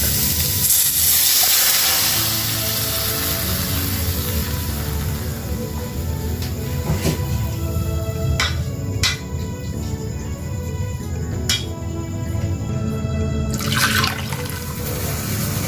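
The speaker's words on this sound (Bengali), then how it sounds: "এ পর্যায়ে দিয়ে দিচ্ছি দুই কাপ পরিমাণ চিকেন স্টক" Two cups of chicken stock poured into a hot pan of fried chicken for soup, a loud rushing splash and hiss at first that settles into steady bubbling with a few sharp clinks near the end.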